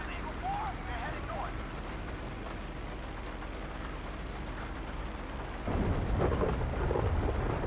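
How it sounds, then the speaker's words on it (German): Steady rain pours with a thunderstorm rumble in GTA5 with the Chaos Mod, swelling louder near the end while a voice talks over it. "Stormy weather."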